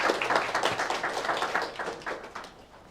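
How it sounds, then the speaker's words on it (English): Brief, moderately quiet audience applause at an innovation pitch event, a few seconds of scattered clapping that tapers off toward the end with no voices over it. "Nice applause."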